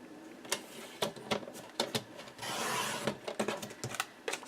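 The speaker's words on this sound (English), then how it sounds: "I think I'll use my trimmer here." A paper trimmer cuts paper for a scrapbook layout, with a series of sharp clicks and taps, then a longer scraping slide of the blade, then more clicks. The sound is close and clear, with no talk.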